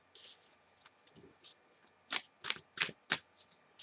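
Tarot cards shuffled by hand, with soft riffling early on, then a run of four or five sharp, loud card flips or riffle bursts close by, followed by quieter shuffling.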